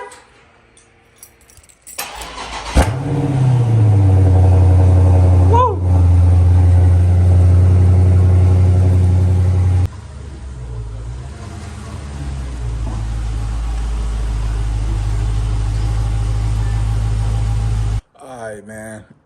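Keys jangle, then a brand-new Dodge Charger Scat Pack with a Corsa Extreme exhaust fires up beside a garage. It starts with a loud, deep bark and one quick rev, then settles into a heavy, rumbling idle before shutting off abruptly.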